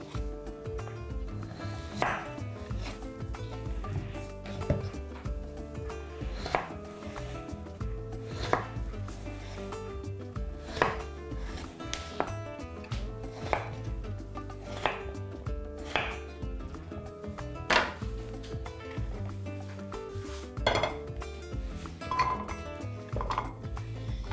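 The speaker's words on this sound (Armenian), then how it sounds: "կարտոֆիլը կտրատում ենք խորանարդիկների" Two medium potatoes being cut into cubes with a knife for a beef ojakhuri, the blade striking the board in a steady, close, fairly quiet rhythm of sharp chops with no talking.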